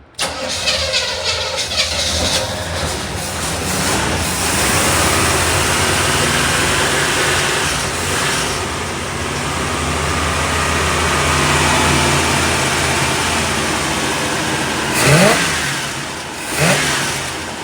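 A 350 V8 engine in a 1975 Chevrolet Monza cranks and catches, then runs with a heavy, rumbling idle and a couple of sharp revs near the end, loud and close.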